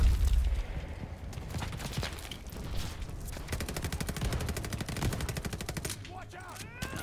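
Rapid gunfire in the video game Call of Duty Vanguard, with loud machine-gun bursts and single shots rattling close by throughout, including a fast regular string of rounds in the middle, under faint game sounds.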